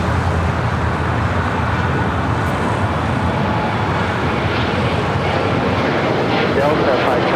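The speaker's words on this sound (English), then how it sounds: "Now we got that flight to Austin, Texas. Now rolling down to 25 right." A jet airliner rolls down runway 25 right at LAX for takeoff, a steady broadband roar of engines and rumble throughout, with radio-style voices talking over it.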